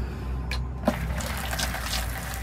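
Hot water running into a watering can, a steady rushing fill that stays constant and close throughout, with no talk.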